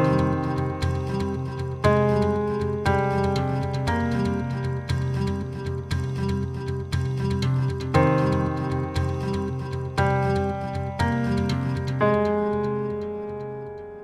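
Reversed piano chords run through a regenerating delay for a horror film cue, swelling tones repeating in a steady ticking pulse that layers and builds over about fourteen seconds, with no talking.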